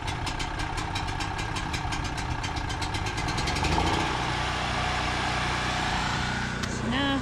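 A portable generator runs beside an RV stopped for a tire change, a steady close engine drone that holds throughout with a slight shift in tone midway.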